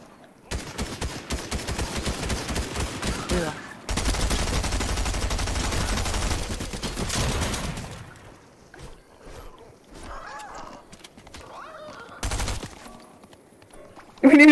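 Rapid automatic gunfire in a video game as players shoot at a llama, loud sustained bursts through the first half, then sparser shots and game sounds with a final sharp burst at the end.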